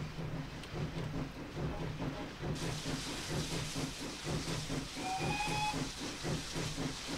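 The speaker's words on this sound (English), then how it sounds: "shift space is the short whistles" Short steam whistles from a GWR locomotive in Train Simulator 2016 sound over a steady rhythmic chuffing and hiss, with two brief whistle blasts near the end.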